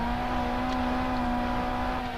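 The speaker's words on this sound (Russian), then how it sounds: "Машина так пробуксовала вначале приятно." In the Sebastien Loeb Rally video game, a Lancia Fulvia of the 1970s rally car class spins its wheels at the start, with a steady, droning engine tone held throughout.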